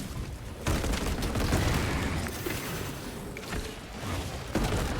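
Warhammer 40,000 Space Marine 2 combat: dense explosions and heavy gunfire roar continuously, a thick rumbling barrage with sharper bursts near the start and end.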